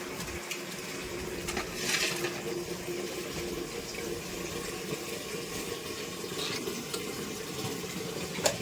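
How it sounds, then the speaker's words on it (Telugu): Raw prawns being washed in water: a faint, steady running-water wash with soft splashes and swirls, close by and without talk. "రొయ్యలు కడుక్కుందాం చూద్దామండి రొయ్యలు క్లీన్ చేసుకుందాం"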